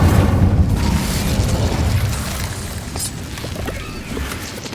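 Fiery Incendio spell blasts erupt in Hogwarts Legacy combat, a dense booming rumble with crackling bursts that stays loud and steady throughout, no talking.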